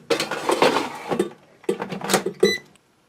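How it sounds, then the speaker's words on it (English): A beef roast being loaded into a Cooks Essential air fryer basket: two bursts of clattering metal rattles and clicks, close and fairly loud, separated by a short pause. "I'm going to load this into the air fryer."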